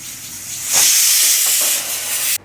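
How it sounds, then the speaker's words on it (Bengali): A pressure cooker boiling potatoes lets out a loud, steady steam hiss that swells partway through and holds for about two seconds before cutting off abruptly. "আলু সিদ্ধ বসিয়েছি প্রেশার কুকারে"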